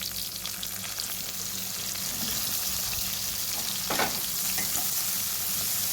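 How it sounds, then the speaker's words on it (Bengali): Fried onions in a wok as tomato is added, a continuous close sizzle with occasional spatula scrapes and stirring clatter, steady and loud without any voices. "পেঁয়াজগুলো ভাজা হয়ে গেলে দেবো টমেটো।"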